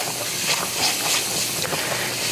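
A flour roux for a ham and potato casserole gravy sizzles and hisses in a pan as it is stirred, a steady bright frying hiss with soft scraping under it, close and continuous.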